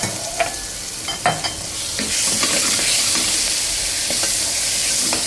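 A few clinks and taps precede a sudden loud, hissing sizzle as prepared spices hit hot oil with curry leaves for dal tempering, crackling steadily close by.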